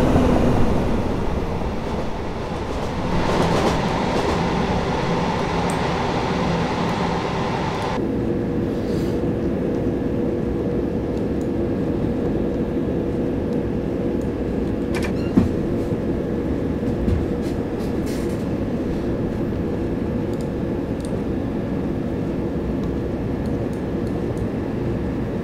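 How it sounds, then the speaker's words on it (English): A Class 455 electric multiple unit runs in Train Simulator 2018 on a Brighton route, with a steady loud rolling rumble and motor hum over the whole run. Occasional clicks and thumps from track joints can be heard, and no one talks. "Class 455, very nice."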